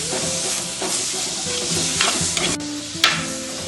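Onion, garlic, ginger and three chopped tomatoes sauté in a pan for a chicken curry with coconut milk, giving a steady close sizzle with stirring scrapes and a few sharper clinks, no talking.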